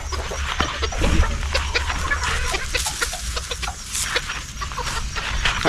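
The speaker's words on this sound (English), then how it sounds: "There's one of them laying hens." Laying hen clucking on a homestead during chores, soft repeated clucks and scratchy farmyard rustling, close by, with a low background hum throughout.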